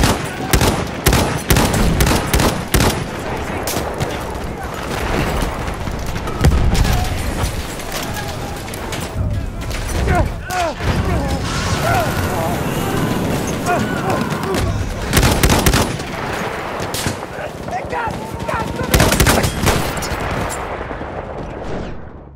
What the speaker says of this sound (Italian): Quella è una mitragliatrice nemica!